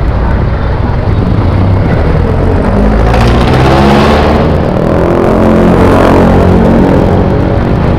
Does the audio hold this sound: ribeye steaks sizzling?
no